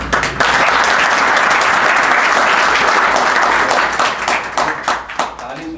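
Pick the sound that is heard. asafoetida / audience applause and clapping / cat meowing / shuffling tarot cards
audience applause and clapping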